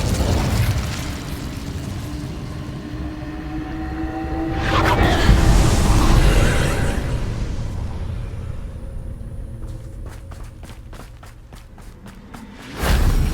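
Incendio fire spell bursts in Hogwarts Legacy: a steady low game rumble swells into a loud fiery blast midway, then a second sharp burst erupts at the close.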